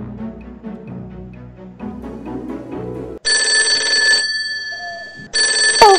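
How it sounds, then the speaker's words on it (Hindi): A telephone rings in two loud bursts separated by a short pause, after a stretch of soft tonal sounds. "ओहो, टेलीफोन को भी अभी आना था।"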